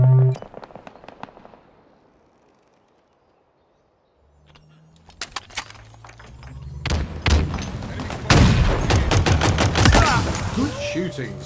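Halo Infinite gunfire arrives in sharp, loud bursts, beginning with a few cracks, dropping into near silence, then returning as dense rapid shots with thuds and game effects.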